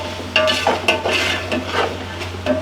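A spoon stirs minced beef keema with fried vegetables, tomatoes and green chillies in a pot, producing uneven bursts of scraping and soft clinks over a light sizzle, with no talking.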